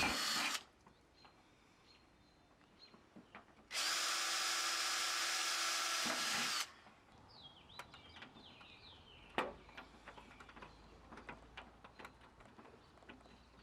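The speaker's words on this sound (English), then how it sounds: "And we're going to drill a couple holes here." Two bursts of a power drill drilling holes in a rain barrel, a short one then a longer steady run, with light tapping and birds chirping faintly between.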